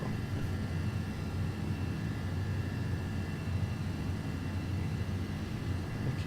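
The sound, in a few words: MD-11 jet engines, Rotate soundpack in X-Plane 12 video game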